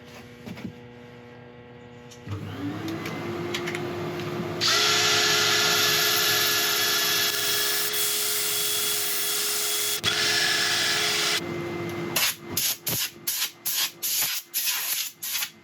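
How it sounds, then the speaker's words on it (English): A lathe spins a turned wooden bowl while sandpaper rubs excess dye off its surface, a steady whirring hum with a harsh abrasive hiss, then a series of short rhythmic scraping passes near the end. "first I'm going to try sanding the excess dye off."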